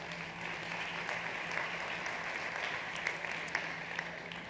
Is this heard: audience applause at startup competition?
yes